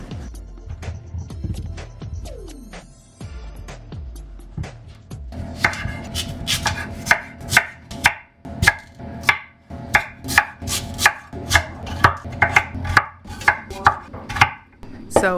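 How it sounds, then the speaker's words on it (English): Sweet potatoes being chopped on a board, a run of sharp knife strikes that starts sparse and quickens into a steady rhythm of crisp close chops, with no voices. "So after I chop up my sweet potatoes"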